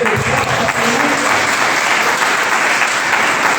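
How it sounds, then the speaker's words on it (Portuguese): A church congregation applauds continuously, a dense, loud, steady wash of many hands clapping together at a worship service, with no pauses throughout. "Você pode aplaudir o nome dele."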